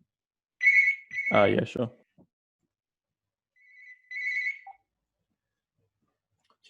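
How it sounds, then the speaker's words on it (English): A telephone rings in short tonal bursts, two separate rings a few seconds apart, with a brief spoken reply between them and silence after. "The phone rang."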